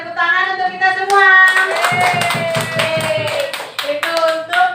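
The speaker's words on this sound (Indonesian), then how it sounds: "Tepuk tangan untuk kita semua." Group of participants clapping hands together in a classroom workshop, bursts of rhythmic claps mixed with sung or called-out voices, close and fairly loud.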